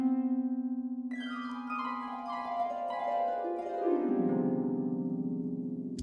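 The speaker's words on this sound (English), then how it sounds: "the harp does a glissando here." Harp glissando from the Synchron Harp library in an orchestral composition, a sweeping run of plucked strings descending over several seconds above a held low note, clear and close with no voices.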